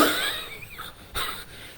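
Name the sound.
cough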